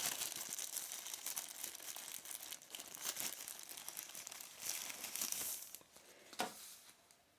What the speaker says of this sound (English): check out the power bank by removing it from its protective plastic bag here, or wrapper